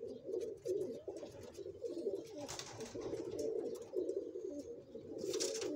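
Teddy breeder pigeons cooing close by, a low, soft, repeated rolling coo that continues throughout with brief pauses, plus a few faint higher rustles.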